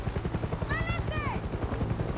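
A helicopter in the video game Far Cry 6, its rapid rotor chop pulsing steadily and close, with a voice briefly speaking over it.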